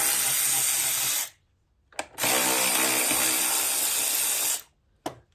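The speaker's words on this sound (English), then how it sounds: "So you gotta take all these bolts out." A power tool drives bolts out of a John Deere z445 zero-turn riding mower in two loud, close, sustained bursts, with brief blips in between and at the end.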